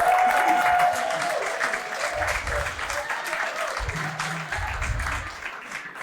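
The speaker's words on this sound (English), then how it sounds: "Round of applause to Richard." A sales-leader audience at an in-person sales event applauds a speaker, a loud, dense, sustained clapping from a full room that continues steadily throughout.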